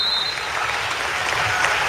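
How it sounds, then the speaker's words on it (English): Crowd applause in a high school gym at a boys and girls basketball game as seniors are recognized, a steady wash of clapping and cheering at close range, loud and continuous for the whole moment. "And the seniors from Raj get a big round of applause."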